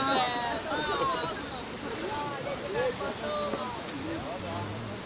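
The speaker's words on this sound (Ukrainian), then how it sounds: "Ось сам водоспад." Kamianka waterfall near Dubyna village in the Skole district of the Carpathians gives off a steady broadband rush of falling water, with voices talking over it throughout.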